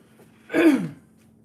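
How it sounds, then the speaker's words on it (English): A cat in an art studio gives a single short, close meow that falls in pitch, heard alone against a quiet background. "Kitty wants chicken now."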